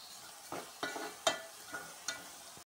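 Ginger garlic paste with turmeric fries in a pan. Several separate stirring scrapes land over a faint sizzle, quiet and close.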